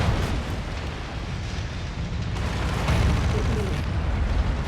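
An AC-20 autocannon fires in the MechWarrior 5 video game, producing a continuous roaring barrage of heavy blasts that merge into a dense, loud rumble for several seconds.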